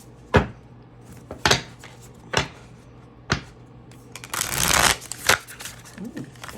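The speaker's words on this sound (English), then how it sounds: "Ooh, that was a bad shuffle." A deck of playing cards is riffled and bridged several times, each shuffle a sharp close flutter followed by a longer rattling cascade, with quiet gaps between.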